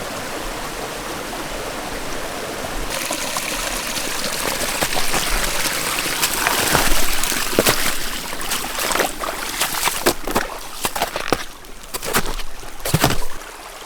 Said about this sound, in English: listen to all that water from all the snow melt